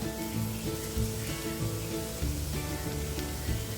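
Spices sizzle and fry steadily in an oiled pan while egg bhurji is sautéed, a dense continuous crackling hiss with soft stirring scrapes, close and fairly loud, with no voices.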